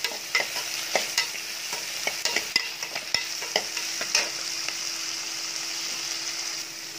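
Vegetables with added salt sauté in a hot pan for a curry of brinjal, drumstick and potato, a steady close sizzle with scattered stirring clicks and scrapes throughout, no talk.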